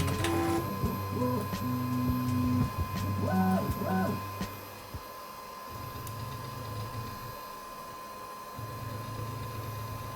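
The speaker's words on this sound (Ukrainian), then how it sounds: "3D принтер увімкнувся." A Bambu Lab A1 mini 3D printer, freshly repaired with a new X-axis linear guide, whirs with stepper-motor tones, rising and falling melodic whines as the head moves, then settles into a steady low mechanical hum.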